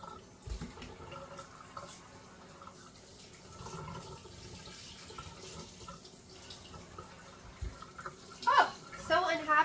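Kitchen tap runs steadily while food is rinsed in the sink for red beans and jambalaya, with water splashing louder near the end and a voice talking over it.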